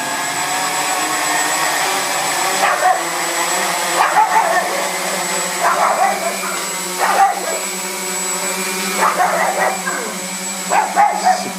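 Quadcopter motors spin up on the floor as the throttle is raised, producing a steady, close whine. The whine swells in short surges every second or so as the throttle is pushed, with no speech over it.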